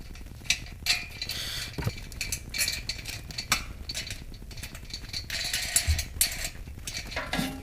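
Wing nuts being screwed by hand onto a DIY metal hot tent stove, giving a near, steady run of small metallic clicks and ratcheting rattles with a few sharper clinks.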